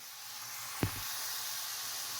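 Carrots fry in a pan for a vegetable idli dish, giving a steady, close sizzling hiss throughout, with one soft dull knock partway through.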